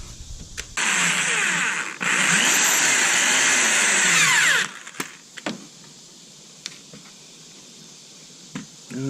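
A power drill whines at high speed in two long bursts driving self-drilling screws into Chevy Camaro side skirts, then stops, followed by a few scattered clicks and taps nearby.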